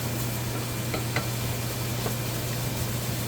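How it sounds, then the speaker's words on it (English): Onions sizzle steadily in a pan over heat for a ratatouille-style vegetable dish, a constant close crackling hiss with a few faint ticks and no talking. "Now we got the onions in, we'll turn on the heat."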